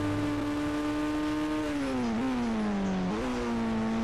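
A car engine in the Indian Bikes Driving 3D video game drones at high speed, a steady tone that dips and rises in pitch as it runs, with no talking over it.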